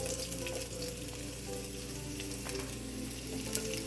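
Sliced onions hit hot vegetable oil in a cooking pot, giving a loud, steady sizzle and crackle that runs the whole time with no voices.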